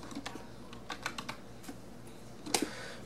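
Keys clatter on a computer keyboard as a command is typed into ADB tools on a PC: a few scattered close taps, then a quicker burst of keystrokes and one sharper clack near the end.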